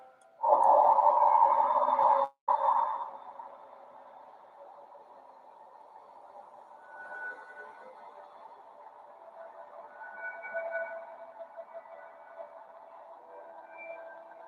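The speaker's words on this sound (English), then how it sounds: "The complex interactions of charged electromagnetic particles from the solar wind, planetary magnetosphere, etc. create vibration soundscapes" An eerie, droning electronic hum swells loudly, cuts out briefly, then continues as a quieter warbling, whistling soundscape with shifting tones.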